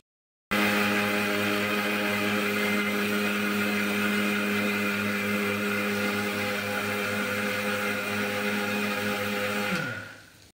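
A kitchen mixer grinder grinds roasted rice: a loud, steady motor whine starts abruptly, holds for about nine seconds, then winds down and stops.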